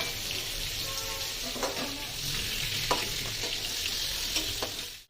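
Pointed gourd pieces frying with turmeric in a pan, a steady sizzle of hot oil with occasional scraping stirs of a spatula, close and continuous with no talk.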